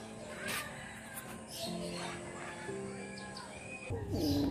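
Pigeons kept in a backyard loft coo softly, with low repeated coos and a few chirps over quiet background noise, fairly close and not loud.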